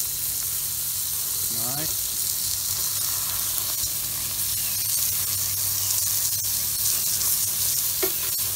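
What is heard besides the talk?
burgers sizzling on Watchman stove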